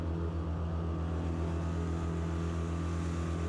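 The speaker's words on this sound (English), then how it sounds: "Just doing an engine check." A newly installed inboard engine on a sailing boat idles during a check. It makes a steady, throbbing low drone with an even pulse, heard up close and alone.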